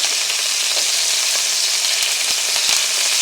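Sea scallops searing in a hot pan, a loud, dense, steady sizzle with crackling pops scattered through it, close and continuous with no voices.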